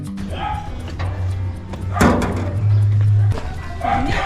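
Pet dogs bark in a few short, close bursts amid household clatter and a brief thud, with a person talking nearby.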